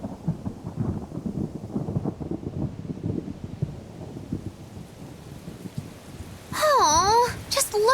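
Steady rain with rumbling thunder in the Tales of Berseria game on the Aldina Plains, a continuous wet hiss and low rolls, joined near the end by a louder swell and warbling tonal effects.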